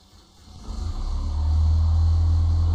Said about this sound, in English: clearly, we can hear that the engine is started